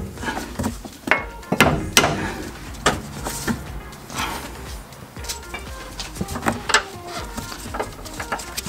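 Sharp metallic hammer blows strike a rear suspension bushing on a 1988–2000 Honda Civic, CRX or Integra, several irregular clanks ringing out close by in a workshop with background noise between them.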